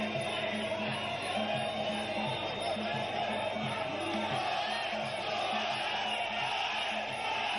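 Crowd cheering and shouting at a live Muay Thai fight, a dense steady roar of voices with rhythmic ringside music underneath, filling the whole stretch without pause.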